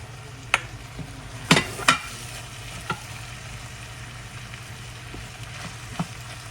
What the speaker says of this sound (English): we're just going to keep stirring until we get the rice mixed all into the meat and the veggies